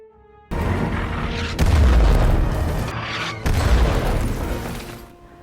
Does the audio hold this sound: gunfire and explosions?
yes